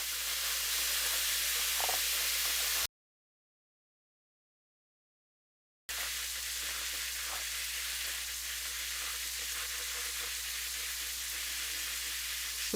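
Food for carbonara fries in a pan with a steady, fine broadband sizzle and hiss, interrupted by a few seconds of complete silence before the frying resumes at the same even level.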